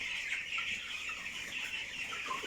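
Three-week-old broiler chickens on a poultry farm, many birds clucking and peeping together in a dense, continuous chatter at steady moderate loudness.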